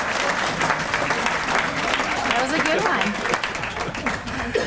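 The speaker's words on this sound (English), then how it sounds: "Round of applause." Audience applause at a chamber of commerce State of the City luncheon in Paramount, a dense steady wash of many hands clapping that fills the room from start to finish, with a brief word spoken over it.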